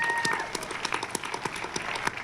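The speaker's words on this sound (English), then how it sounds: "give them a round of applause." An audience claps and applauds steadily, many hands with a soft, slightly distant crowd feel.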